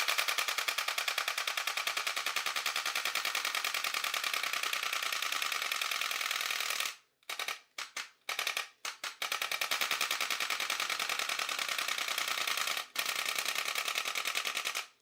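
A 55-inch dedicated light gun arcade machine fires rapid automatic gunfire with recoil, a dense, fast, loud rattle that runs continuously, breaks into short bursts midway, then resumes.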